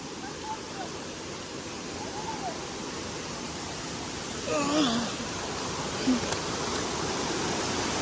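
Leki Falls pours through dense forest with a constant broad rushing roar that fills the whole stretch, while a brief whistle-like voice sound rises faintly over it midway.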